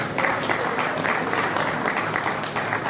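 A church conference crowd applauds a couple walking forward, a steady wash of clapping that holds at an even level throughout with no break.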